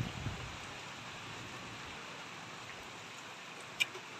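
Steady rain hiss holds throughout the quiet recording, with a single faint sharp crack near the end and no clear thunder rumble.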